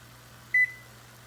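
A single short electronic beep from an oven being set to 350 degrees, heard alone over a faint steady hum.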